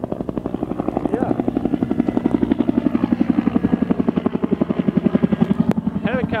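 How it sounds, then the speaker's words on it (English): Helicopter passing overhead with a loud, steady rhythmic rotor thump that throbs evenly throughout, fairly close, and a brief voice over it near the end. "Helicopter."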